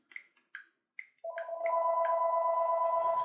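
Electronic tones sound as a short series of chirping beeps that lead into a steady, sustained phone-like ring, clear against a quiet background.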